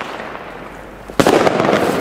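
A small Argento Mephisto 13-shot fireworks battery fires, with a sudden loud crackling burst cutting in after a stretch of rumbling outdoor New Year's Eve noise in Berlin.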